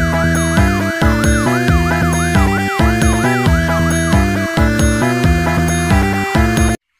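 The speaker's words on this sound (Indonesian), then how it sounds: "Mobil pemadam kebakaran." A toy fire truck siren wails loudly and continuously, a rising and falling electronic tone repeating over pulsing stepped notes before cutting off abruptly at the end.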